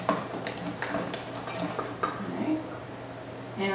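Stiff oatmeal chocolate chip cookie dough being worked in a bowl, with steady scraping and clinking of utensil against dish, close and continuous, the thick dough thudding and squishing as it is mixed.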